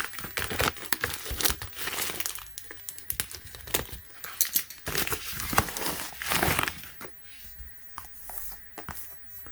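Battery packaging being cut open for a LOCTUS lithium-ion replacement battery for an iPhone 6s: close crinkling and crackling of plastic and cardboard with sharp snips and tearing rustles, busy at first and then thinning to lighter rustling near the end.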